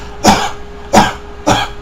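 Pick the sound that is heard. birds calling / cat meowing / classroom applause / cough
cough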